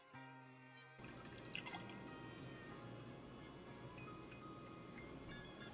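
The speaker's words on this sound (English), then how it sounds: "pour some milk to the mark indicated by latte art" Milk pouring into a BaristaMaker frother jug, a steady close liquid stream with bubbling and dripping that runs continuously after a brief quiet start.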